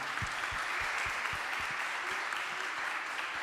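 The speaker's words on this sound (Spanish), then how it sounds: "Fuerte el aplauso." An audience at a panel conference on citizen participation networks gives sustained, even applause, a continuous wash of clapping that holds steady throughout.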